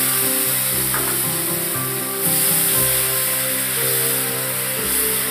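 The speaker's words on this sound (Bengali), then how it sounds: "টমেটোটা দিয়ে দেব।" Tomato hits rice frying in hot oil in a pan, with a loud, continuous sizzle and hiss. A brief surge comes as it lands, then the frying stays steady and close, with no talking.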